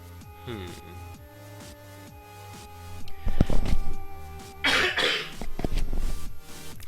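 A person with a lingering cough coughs several times in harsh, close bursts over quiet rhythmic background game music.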